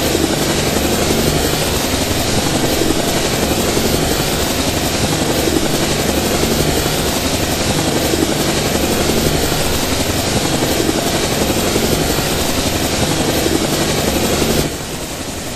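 A helicopter flies in the GameGuru Max video game, its rotor and engine drone steady and loud for most of the stretch before dropping away abruptly near the end.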